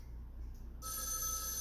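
A telephone rings loudly in a horror video game, starting suddenly partway through as a bright, sustained electronic ring over a low steady hum.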